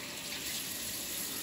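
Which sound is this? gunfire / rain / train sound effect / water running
water running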